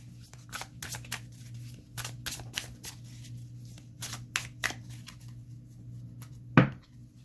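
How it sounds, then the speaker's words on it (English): Tarot cards being shuffled by hand in repeated quick riffles and soft slaps, close and fairly quiet over a steady low hum, with one sharper knock near the end. "They do shuffle beautifully."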